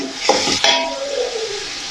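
Medium-sized onions, seven or eight for a chicken curry, sautéing in a pan: a close sizzle with two sharp stirring scrapes early on, then a softer hiss fading out, no talk.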